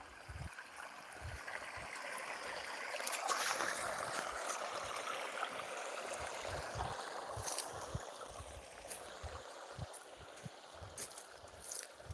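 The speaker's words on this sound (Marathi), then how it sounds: "तुम्हाला सोलरचं पाणी दाखवतो" Water from a solar pump rushes and gurgles steadily outdoors at a low level, a continuous flowing stream watering a wheat field, with faint bumps and thuds mixed in.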